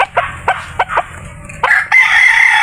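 Breeding fighting roosters cluck in short bursts and then break into a loud, close crow, with a second bird joining near the end. No one speaks.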